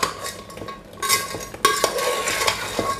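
A spoon stirs paal buns through sticky sugar syrup in a pan, making close, repeated scraping and clinking strokes with soft wet sloshes and a faint sizzle, with no talking.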